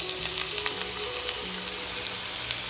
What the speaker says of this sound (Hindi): लहसुन चॉप किया और ऐड कर दिया, थोड़ा सा इसको ब्राउन होने में।